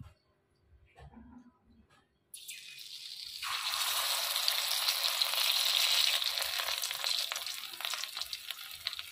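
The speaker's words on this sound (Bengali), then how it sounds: "কাঁকরোলগুলো তেলে দিয়ে দিয়েছি।" Stuffed, batter-coated teasel gourds dropped into hot oil, a steady loud sizzle starting abruptly after a few quiet seconds of handling and continuing as they fry.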